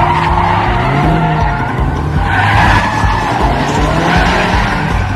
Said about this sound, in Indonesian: Lian kebut-kebutan di jalan raya mengejar pria bermasker. Karena dia pakai mobil sport, sekejap saja dia sudah berhasil menyusulnya.